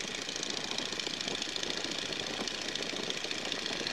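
A Stearman biplane's engine drones steadily in flight as the RPM is raised, a constant close mechanical hum heard from inside the open cockpit.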